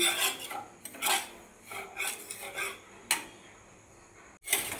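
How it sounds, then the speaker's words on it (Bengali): Semolina being stirred with ghee in a metal pan for halwa, a spoon scraping and rasping against the pan in repeated strokes with short pauses between them, close and moderately loud with no voices. "ঘিয়ের সঙ্গে ভালোভাবে নাড়াচাড়া করে নেব"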